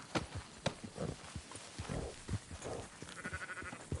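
Sheep in Red Dead Redemption 2 move through a western farm scene, with scattered bleats and hoof-like clip-clop steps over a busy, steady game soundscape.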